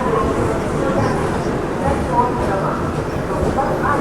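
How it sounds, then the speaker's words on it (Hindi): A moving Humsafar Express train gives off a continuous loud rolling rumble and rattle, heard close from on board with faint background murmur. "ये देखो हम सफ़र के रेक्स के साथ चलती हुई ट्रेन।"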